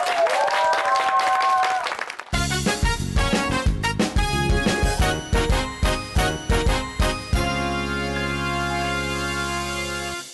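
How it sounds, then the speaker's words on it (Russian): Audience applause at a televised children's song contest, rising briefly with a tonal voice-like sound over it before upbeat music with a steady beat takes over. "И мы начинаем под ваши аплодисменты!"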